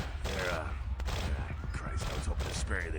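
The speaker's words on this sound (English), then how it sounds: "I cannot hear you over these gunshots, Jack." Gunfire in the vampire game Vampire: The Masquerade – Bloodlines, a continuous rattling fusillade of shots under game dialogue, with voices speaking throughout.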